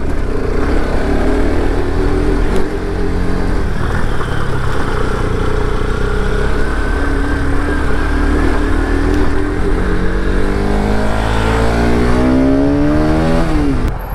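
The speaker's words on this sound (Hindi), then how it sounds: "आज हम करने वाले हैं RS और NS की ड्रैग रेस।" Bajaj Pulsar NS200 and RS200 motorcycles drag race along an unopened expressway. A loud, close engine roar runs without a break, with its pitch climbing as the bikes accelerate at full throttle.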